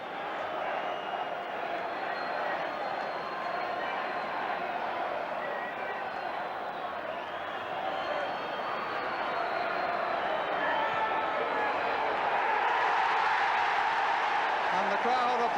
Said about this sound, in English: And the crowd applauding a victory for the kids.